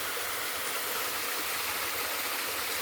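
Water rushes steadily from a dammed stream outdoors, a close, even broadband hiss and splash with no break and no voices.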